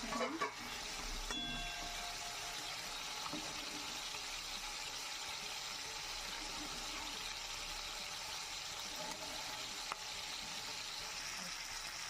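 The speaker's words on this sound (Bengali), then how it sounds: "চিংড়ি মাছটা একটু লাল লাল করে ভাজা হয়ে গেছে" Shrimp fry in a pan for a bottle gourd and shrimp dish, making an even, constant sizzle at moderate volume with a few faint stirring knocks, and no talking.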